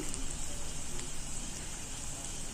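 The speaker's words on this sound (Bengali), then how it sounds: "টুকরো করে কেটে রাখা আলু ও পেঁয়াজের সাথে ভালো করে ভেজে নেব।" Potatoes and onions fry in a pan for ghugni, giving a steady, dense sizzle and crackle that continues unbroken and moderately quiet throughout.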